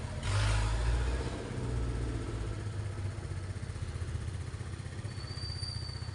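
A motorcycle engine revs up loudly, then settles into a steady mid-pitched running drone that continues close by for several seconds.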